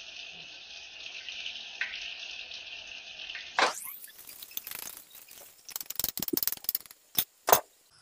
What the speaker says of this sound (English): Then also add some butter and then pour egg into frying pan.